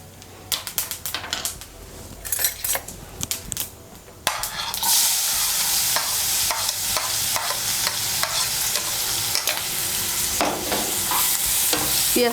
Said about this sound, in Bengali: পেঁয়াজ কুচিটাকে লাল করে ভেজে নেব